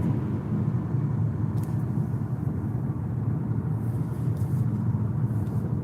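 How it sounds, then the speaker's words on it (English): Continuous low road rumble and engine drone from inside a moving car, steady and fairly loud with no talking. "I'm driving back home from dropping my son off"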